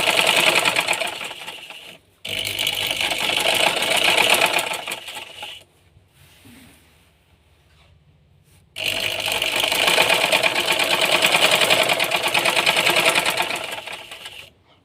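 A sewing machine stitches saree fabric panels for a lehenga, running loud and steady in two long bursts separated by a quiet pause, with a close, rapid mechanical chatter.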